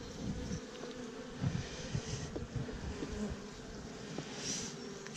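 Honey bees buzzing over hive frames in a weak, swarmed colony, a dense steady drone close up with individual insects passing nearby, no voices.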